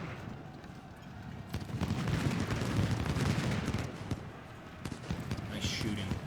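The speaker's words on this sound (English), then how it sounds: "I want to go ahead and just fire on him with everybody we've got." Massed musket and artillery volleys from an Ultimate General: Civil War battle at Chickamauga, a dense rumbling barrage of overlapping shots that swells and sustains through the middle, with sharp cracks scattered on either side.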